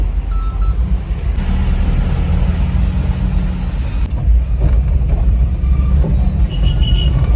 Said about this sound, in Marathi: आणि मी टेम्पो मध्ये बसली आहे.